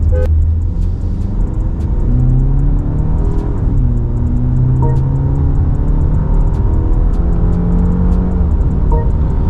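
A 2024 BMW 5 Series in its default personal mode accelerates hard while holding second gear. Engine pitch rises steadily under a loud, continuous road rumble, and no one speaks.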